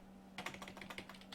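Quick bursts of typing on a computer keyboard, a loose run of close, crisp key clicks over a steady low electrical hum, with no voices.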